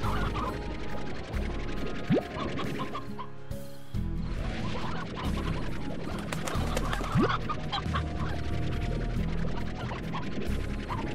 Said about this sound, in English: I know there's a hell of a lot of chickens in here